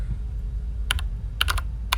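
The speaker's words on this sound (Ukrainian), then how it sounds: "На клавіатуру тисну." Sharp clicks from a computer keyboard: one pair of taps, then a quick burst of three, then a last single press, close and crisp over a low hum.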